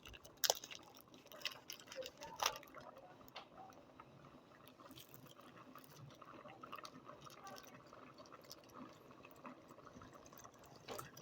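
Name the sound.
milk being poured into a pot for carrot kheer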